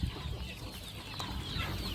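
Chickens cluck steadily outdoors in the Lao countryside, a dense, continuous murmur of fowl calls over a constant rural background.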